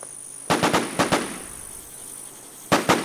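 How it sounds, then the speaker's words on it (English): Gunfire in the online zombie-survival video game The War Z: sharp cracking shots in quick clusters of three, then two, then two more, sounding somewhat distant over a faint steady background hiss. "Gunshots."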